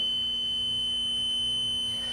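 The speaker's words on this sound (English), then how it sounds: "this is an actual panel. The alarms will go off. It will be noisy for a little bit" A fire alarm panel sounds its alarm as one continuous, unbroken high electronic tone, steady and fairly loud over a faint low hum, with no voices.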